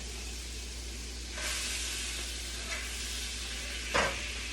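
Butter melts in a skillet with a soft, steady sizzle and hiss, faint and close, rising slightly after a moment, with one brief scrape or tap near the end.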